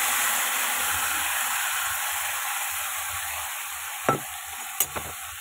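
Marinated fish poured into a pan of hot oil tempered with nigella seeds, giving a loud, steady hissing sizzle that fades slowly, with a few sharp clinks near the end.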